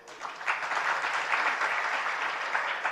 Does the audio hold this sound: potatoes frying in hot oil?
no